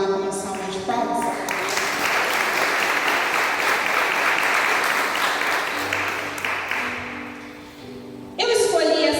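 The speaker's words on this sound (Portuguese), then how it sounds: "Você pode glorificar o Senhor por essa palavra com uma salva de palmas?" A congregation at a special pink-October church service breaks into steady, full applause that swells and then tapers off, framed by a speaker's voice before it begins and again as it ends.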